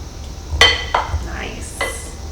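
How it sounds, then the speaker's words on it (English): A utensil stirs food in a pot while party side dishes are prepared for a budget BBQ, giving a few close, sharp clinks and scrapes against the pot over a quiet background. "I'm going to give it a little stir."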